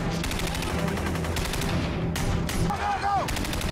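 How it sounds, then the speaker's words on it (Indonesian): Rapid bursts of automatic gunfire rattle through a film battle scene at a camp under attack by Chinese secret agents, dense repeated shots with short gaps, and a brief high whistling sweep near the end. "Baku tembak pun kembali terjadi."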